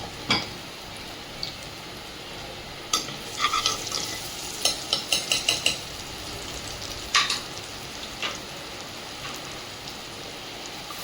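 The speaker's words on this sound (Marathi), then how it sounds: "लसूण, अद्रकची पेस्ट ही अर्धा मिनिट आपण तेलामध्ये व्यवस्थित फ्राय करूया।" Garlic and ginger paste fries in hot oil while being stirred, giving a steady soft sizzle with scattered sharp scraping clicks of the spoon against the pan.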